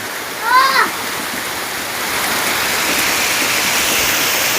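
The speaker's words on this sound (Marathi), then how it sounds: "पावसाने सुरुवात केलेली आहे हे बघा काय खतरनाक पाऊस" Heavy monsoon rain pours steadily and loudly in Konkan, a dense continuous roar that builds slightly after a brief burst of bird-like chirps near the start.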